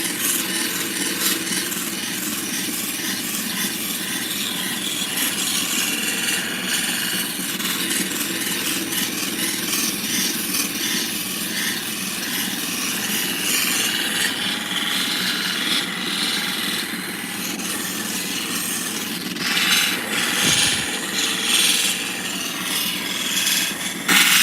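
A quartzite cabochon is sanded at 3000 grit on a running machine, giving a loud, continuous grinding rasp over a steady motor drone for the whole stretch.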